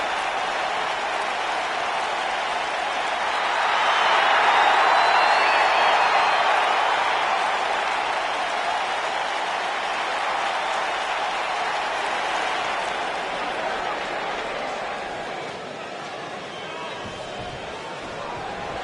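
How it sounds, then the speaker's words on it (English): A large indoor arena crowd at a pro wrestling match roars and cheers continuously, swelling loudest early on and then holding as a dense, echoing wash of noise. "And Michael, it sounds to me like this crowd already picked the one who they want to win this match."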